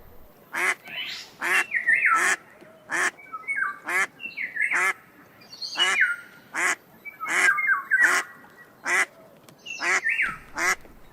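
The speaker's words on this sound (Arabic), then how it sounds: "بطة." A duck quacks repeatedly in loud, close, nasal bursts, about a dozen evenly spaced calls with short gaps between them, heard alone without talk.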